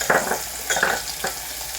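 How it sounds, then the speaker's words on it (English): Onion frying in a mix of palm oil and vegetable oil crackles in short, close bursts of sizzle, loud and brief with no talking. "So as that is cooking, we're going to start by adding our onion."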